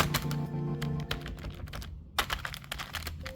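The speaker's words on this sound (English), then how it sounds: "This is a membrane keyboard." Quick, uneven keystrokes come from typing on a Logitech MK120 membrane keyboard, soft muffled clacks in short bursts with a brief pause in the middle, close up and fairly quiet.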